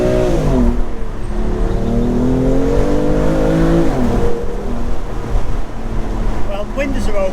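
BMW M2 Competition engine driving with the windows open, a loud steady drone that rises and falls in pitch, wind rush over it and a voice briefly near the end.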